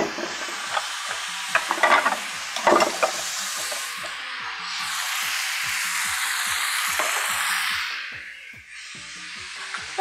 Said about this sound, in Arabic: وهقلب عايزه العجوه تدوب كده شويه في السمنه